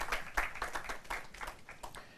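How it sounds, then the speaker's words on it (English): Audience applause at a university law quiz competition, brisk individual claps close by forming a short, lively burst. "A round of applause for her."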